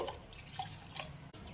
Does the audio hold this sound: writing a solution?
no